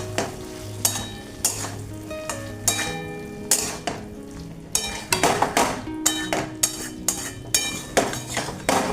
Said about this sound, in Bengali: দিয়ে এইবার ভালোভাবে এটা আমি কষিয়ে দিচ্ছি।